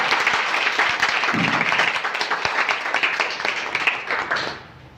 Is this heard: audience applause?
yes